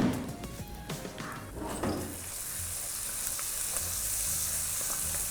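Cashews frying in oil in a pan for a Bohri-style chicken curry: a soft, steady sizzle that swells after a few clattering stirs and utensil knocks at the start, close and moderately quiet, with no speech.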